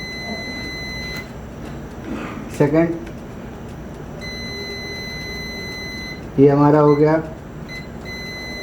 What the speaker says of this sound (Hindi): प्रोसेसर लगा हुआ है, इस वजह से ये बीप आ रही है